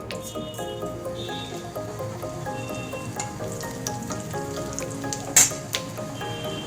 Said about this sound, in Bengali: এবার আমি এই তেলের মধ্যে দিয়ে দেবো তেজপাতা ফোড়ন, জিরে ফোড়ন দেবো